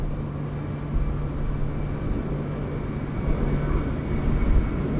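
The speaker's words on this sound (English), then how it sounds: "We've got a Qantas 737 that's getting away now off runway 34 left." A Qantas Boeing 737 departs runway 34 left at Sydney Airport at night, a steady, broad jet roar that holds throughout and swells slightly toward the end, with a faint constant tone underneath and no voices.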